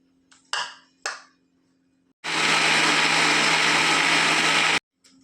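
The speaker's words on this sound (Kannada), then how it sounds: "1/4 ಟೀ ಸ್ಪೂನ್ ಜೀರಿಗೆ, ಅರ್ಧ ತೆಂಗಿನಕಾಯಿ. ಇದು ಒಟ್ಟಿಗೆ ಮಿಕ್ಸಿಯಲ್ಲಿ ಗ್ರೈಂಡ್ ಮಾಡೋದು." A mixer grinder grinds turmeric powder, cumin and half a coconut for a Kerala-style masala curry: two short whirring pulses, then a loud, steady, close grinding roar for a few seconds before it cuts off.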